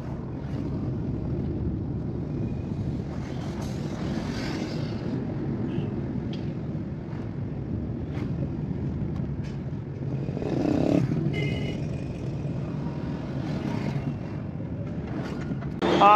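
A taxi pulling away from the Dehradun bus stand, with a low steady engine and road rumble heard from inside the car. It swells briefly midway and runs on without talk.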